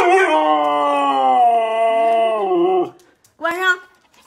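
A husky howls in one long, loud, wavering drawn-out howl at close range, then breaks off and gives a short second howl after a brief pause.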